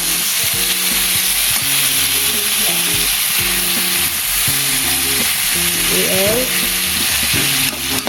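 String beans (sitaw) frying with longganisa hiss steadily in the pan while a utensil stirs them in rhythmic scraping strokes, close and loud, with a brief word spoken.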